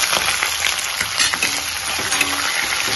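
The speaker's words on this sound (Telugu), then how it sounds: "పోపు వేగింది. ఉల్లిపాయ ముక్కలు వేస్తున్నాను." Onion pieces fry in a tempering of chillies, cumin and curry leaves, a continuous close crackling sizzle with faint stirring, steady and moderately loud with no talking.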